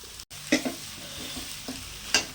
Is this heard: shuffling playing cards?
no